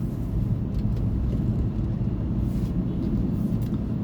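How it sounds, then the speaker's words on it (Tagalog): Steady road traffic heard from inside a car on a congested route, a continuous low engine and tyre rumble without distinct passing events. "Traffic to traffic na lang."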